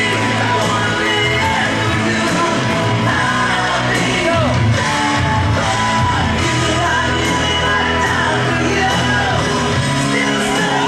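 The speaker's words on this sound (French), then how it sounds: "On peut les applaudir, ça." A crowd at a football fan day yells and cheers for the U15 players, a dense, continuous roar of shouts and whoops that holds steady and loud throughout.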